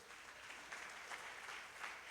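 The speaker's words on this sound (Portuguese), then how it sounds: "Você pode aplaudir a Jesus aí?" A church congregation applauds during a Sunday celebration service, a steady, even wash of many hands clapping, fairly faint and heard on its own.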